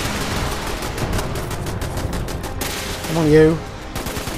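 Rapid bursts of automatic machine gun fire in the Fallout 76 video game, dense and loud, with a brief voice speaking over the shooting near the end.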